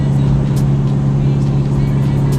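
Big-turbo Duramax diesel truck towing a load uphill in the Mount Gretna mountains, with a steady, loud low engine drone and road rumble throughout and no pauses.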